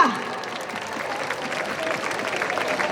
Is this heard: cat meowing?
no